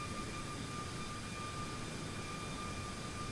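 Steady, dense airliner engine roar at takeoff in Microsoft Flight Simulator 2024, a constant broadband rumble with a thin whine, no pauses, moderately loud throughout.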